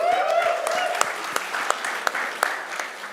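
An audience claps for Manoj at a stage event, a steady wash of applause with a few sharp, louder individual claps standing out, fairly close and fading slightly toward the end.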